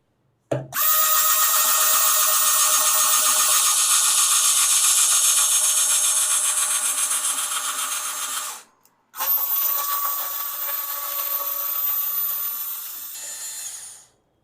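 An Ingco mini cordless screwdriver whirs loudly and steadily while drilling into material, a high motor whine running for about eight seconds, cutting off briefly, then resuming and winding down.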